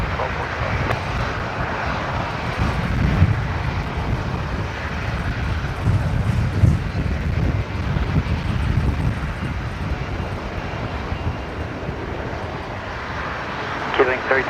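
An airliner taking off from runway 19 left at Brisbane Airport makes a steady, loud, broadband engine roar mixed with wind rumble, sustained throughout with little change.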